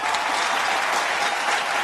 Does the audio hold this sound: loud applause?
yes